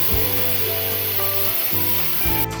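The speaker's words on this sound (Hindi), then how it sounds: "इसकी स्टीम निकाल लेंगे।" Steam vents from a pressure cooker holding goat trotters for paya, a continuous loud hiss with a wavering tonal whine running through it, heard alone.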